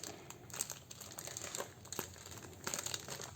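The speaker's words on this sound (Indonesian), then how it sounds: "Jadi Diamond Art Club selalu dalamnya tuh dibungkus lagi dengan plastik seperti ini." The plastic wrapping around a Diamond Art Club Rainbow Rose canvas crinkles close up in quiet, irregular rustles and crackles that continue throughout, with no voices.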